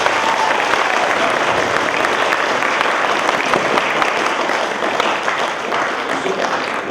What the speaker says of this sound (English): So please, now let's give a warm round of applause.